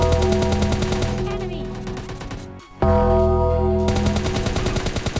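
Rapid bursts of gunfire from the PUBG Lite battle royale game, loud and dense with game music tones underneath, dropping out briefly before resuming at full intensity.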